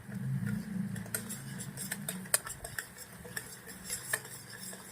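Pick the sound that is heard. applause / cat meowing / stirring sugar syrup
stirring sugar syrup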